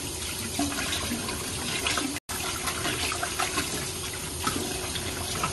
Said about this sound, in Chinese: 生菜最好咧就邊沖邊洗